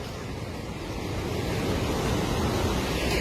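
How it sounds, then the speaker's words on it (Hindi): Clear natural stream water flowing at a campsite in Aharbal: a steady, dense rushing wash, close and loud, continuous without pauses. "यहाँ से पानी बहता है, देखो कितना साफ पानी है यार, एकदम नेचुरल"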